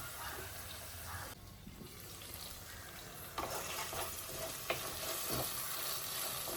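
Tomato and onion soften in a hot pan with a continuous moderate sizzle, broken by a few sharp stirring scrapes and clinks. No one speaks.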